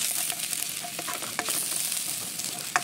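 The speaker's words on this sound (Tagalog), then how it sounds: "sa isang pan, maglagay tayo ng mantika at igisa natin yung bawang" Garlic sautés in oil in a pan for ginisang pechay, a close, steady hiss and sizzle broken by a few sharp utensil clicks as it is stirred; no voices.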